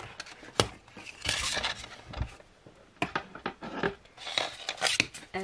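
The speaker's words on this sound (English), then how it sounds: "And then we'll just cut the design off" Scissors snip a Cricut smart iron-on design free from its sheet, making close, crisp cuts and crinkling rustles of the vinyl in uneven bursts, with short pauses between strokes.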